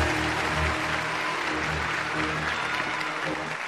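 Steady, full applause from a large audience at a TV drama awards gala as Hu Ge is invited onstage, loud and unbroken for a few seconds with little else over it.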